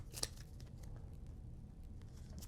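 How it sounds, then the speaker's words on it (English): Arraial board game tiles shuffled by hand on a table, a soft, continuous rustling clatter that stays low and steady, with one brief sharper click near the start. "I will shuffle these tiles"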